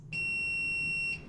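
A laundry machine's payment confirmation beep after paying through the Speed Queen app: one clear, high, steady electronic tone lasting about a second over faint room noise.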